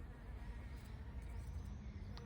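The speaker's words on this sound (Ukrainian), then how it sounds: "Чи там бджолки на них працюють." Bees buzzing faintly around pink-flowered variegated weigela shrub blossoms outdoors, a soft continuous hum over low background noise with no talking.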